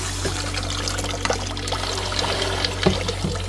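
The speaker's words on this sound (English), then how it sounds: "I'm just getting the initial slurry rinsed off" Water pours and trickles over lapidary rocks from a truck-tire tumbler as the slurry is rinsed off, a steady running splash with occasional knocks of stones, close and moderately loud with no talking.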